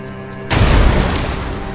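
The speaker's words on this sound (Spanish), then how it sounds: "me parece un sonido de explosión normal" A sudden deep boom from an explosion in the video game The Gunk bursts in after a quiet moment, then rumbles and crackles as it slowly fades, loud and close.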